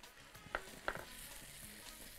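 Minced garlic added to frying onions in a pan gives a quiet, steady sizzle, with two brief spoon taps near the start, close but faint.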